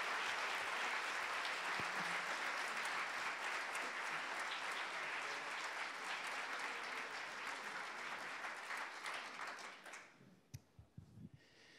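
Sustained audience applause at a folk concert at The Hearth for a singer, dense and steady for most of its length before fading out into a few scattered last claps near the end.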